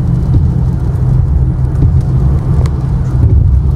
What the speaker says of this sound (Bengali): বৃষ্টি থামে নাই।